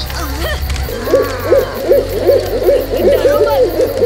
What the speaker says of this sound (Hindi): भूत आने से पहले हमेशा एक उल्लू की आवाज आती है।